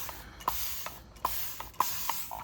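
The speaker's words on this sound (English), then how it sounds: "I'm gonna start by getting my paper a little wet" A spray bottle mists water onto stamping paper in a series of short, close hissing bursts, about five or six quick squirts spaced irregularly, with no talk.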